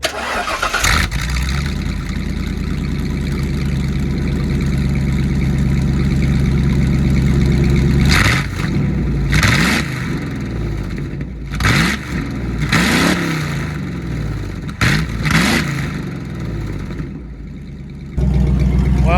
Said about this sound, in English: Here, let me get a little exhaust clip.